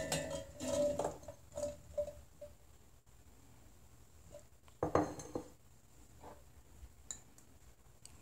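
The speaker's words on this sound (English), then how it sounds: "So now I have taken a mixie jar. I am adding the chickpeas to it." Chickpeas are tipped into a mixer grinder jar in a kitchen, making faint patters and light clinks in short bursts, with a few louder knocks against the jar.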